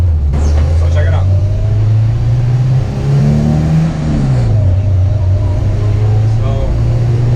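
A car engine held at steady revs, then blipped and dropped as gears are shifted without the clutch, the hum rising and falling smoothly and loud up close inside the car.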